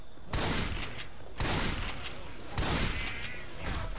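Gunfire in the zombie shooter Left 4 Dead 2 rings out in three loud, sustained bursts of shots, with short pauses between them.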